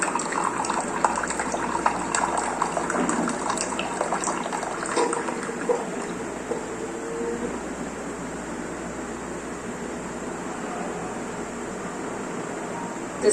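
A Keurig K Cafe coffee maker runs a cleansing brew with no pod, hot water streaming steadily into a cup with a continuous hiss and gurgle, close and moderately loud, alone without talk.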